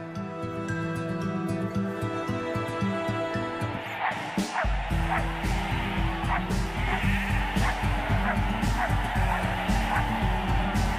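Sheep in Iceland bleat repeatedly, several animals calling near and far, with a dog barking and a steady engine rumble beneath, the bleats growing busier and more overlapping midway.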